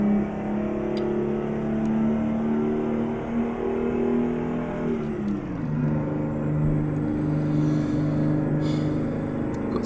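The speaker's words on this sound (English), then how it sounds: "we really do, I guess, labour this engine" Truck engine labouring in top gear in American Truck Simulator, a steady loud low drone that drops in pitch partway through, continuous with no talking.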